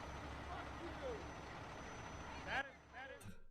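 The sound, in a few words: truck in the street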